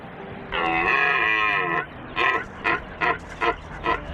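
A red deer stag gives a deep, drawn-out roar lasting over a second, followed by a series of five shorter grunting bellows in a steady rhythm, close and loud.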